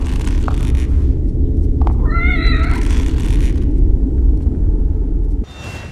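Cat meowing in the horror video game The Evil Within, a single drawn-out meow with a wavering pitch rising over a constant low rumbling ambience, near and clear, with faint short clicks before it.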